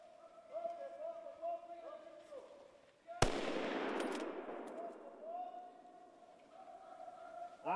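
A single loud rifle shot during a wild boar hunting drive, one sharp crack with a broad rolling echo that fades slowly, set against quieter outdoor background sound.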